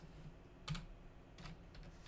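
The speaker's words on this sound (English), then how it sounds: "hit 2 on my keyboard" Two quiet, short bursts of computer keyboard key presses while 3D modeling in 3ds Max, each a quick cluster of clicks about three quarters of a second apart, with no talking.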